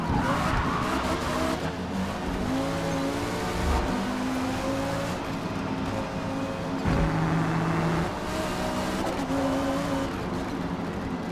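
KTM GT2 race car in a Forza racing game at Le Mans, engine revs rising and falling through corners with repeated downshifts and acceleration, steady and fairly loud with other cars nearby.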